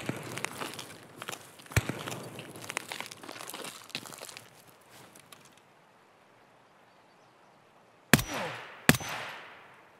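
Two loud, close gunshots less than a second apart in Escape From Tarkov. Quieter rustling and footsteps come before them, and a short decaying echo follows each shot.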